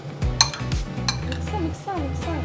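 A spoon scraping and clinking against a pan while stirring food in a home kitchen, with sharp metallic knocks over a low rumble and soft background murmur.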